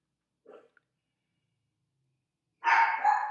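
A pet dog barks in a quiet indoor room: one short yip, then a louder, longer bark after a stretch of silence, close by.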